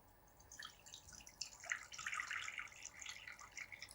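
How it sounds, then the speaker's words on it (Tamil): Water pours steadily into a cooking pot for Thai green curry, a soft, continuous splashing trickle at close range with no talk over it. "தேவையான அளவுக்கு தண்ணி ஊற்றிக்கலாம்"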